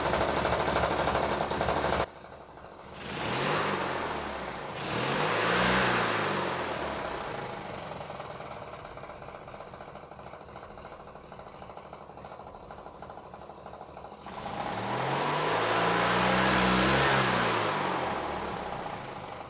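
A race mower's small engine idles, then is revved twice with a newly fitted gas pedal, each rise climbing and falling back to a steady idle, loud and close with no talk.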